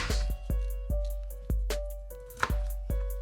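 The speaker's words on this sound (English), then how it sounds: "I'm gonna chop it up real nice." Knife chopping food on a cutting board, about a dozen crisp, fairly even knocks close by in a quiet room, with no talking.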